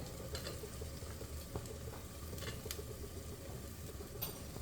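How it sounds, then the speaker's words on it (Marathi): Peanuts and cauliflower hit frying masala for Maharashtrian wedding-style masale bhaat. A steady, faint sizzle runs throughout, with occasional light clinks and stirring scrapes. "आता त्यातच आपण हे शेंगदाणे टाकणार आहे फ्लावर टाकणार आहे"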